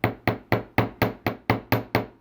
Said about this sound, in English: going to lightly hammer the top of this loop